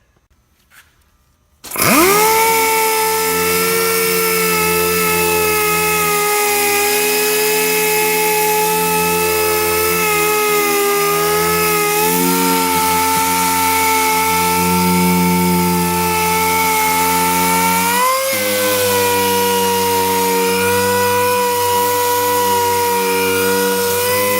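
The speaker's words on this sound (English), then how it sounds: "So let's go ahead and sand it." A power sander whines on abruptly and runs continuously at a loud, steady pitch, wavering slightly as it sands fiberglass with 80-grit paper.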